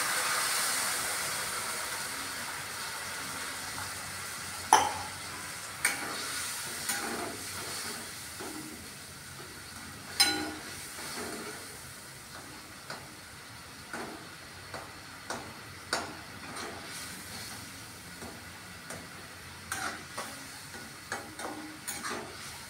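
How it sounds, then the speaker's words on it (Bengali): Potato curry with added water simmers at a low steady hiss, broken by scattered soft pops and ticks as bubbles begin to break the surface. "এখন ফুটতে আরম্ভ করছে"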